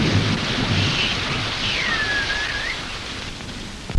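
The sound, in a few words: thunderstorm with heavy tropical rain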